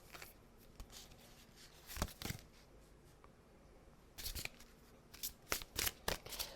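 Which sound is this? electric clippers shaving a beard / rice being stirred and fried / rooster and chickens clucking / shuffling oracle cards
shuffling oracle cards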